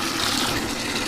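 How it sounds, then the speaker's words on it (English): Muddy water gushes steadily out of a pipe into a bucket outdoors beside a retaining wall, a constant broadband rush with no pauses or talk. "Look at all that water coming out."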